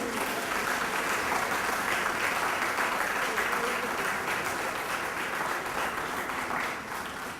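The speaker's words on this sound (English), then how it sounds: "could we have another round in applause?" Sustained audience applause at a Jamaican formal gathering after a speaker is honored, steady and dense throughout the clip, tapering slightly at the very end.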